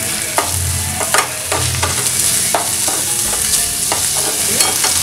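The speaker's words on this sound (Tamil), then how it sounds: "இது எல்லாத்தையும் சேர்த்து நல்லா வதக்கிக்கலாம்" Ginger garlic paste and chopped onion sautéing in a pan for a prawn roast, a close, loud sizzle with spoon scrapes and taps against the pan every second or so, no voices.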